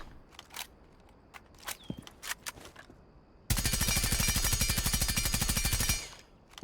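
Automatic gunfire from a weapon in Rainbow Six Siege, a loud sustained burst of rapid shots lasting a few seconds after scattered quieter clicks and footsteps.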